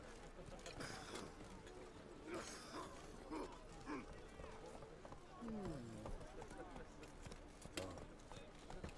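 In The Witcher 3, a horse's hooves clip-clop at a trot, heard faintly beneath someone talking over the game.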